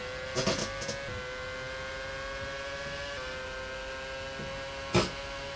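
A racing car engine drones on steadily in the rFactor video game during a Malaysian Grand Prix race, with a couple of brief, faint bursts of higher noise.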